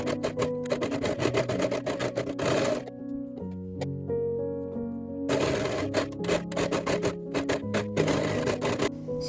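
A sewing machine stitches binding along the edges of layered pocket fabric, producing rapid rattling stitch bursts that pause midway over a steady tonal background, with no speech.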